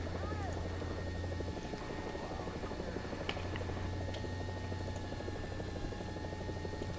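A helicopter in the War Thunder video game, heard from the cockpit, gives a steady rotor and engine drone, continuous and even at moderate level with a faint rhythmic chop.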